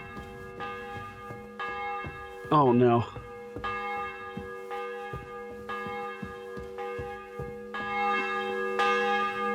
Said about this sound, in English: He's ringing the bell, right?